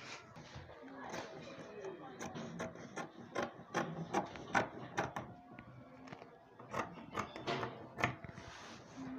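Scissors snip through fabric while a peplum blouse is cut out, giving a run of close, crisp, rhythmic cuts in uneven bursts, with a person talking quietly between them.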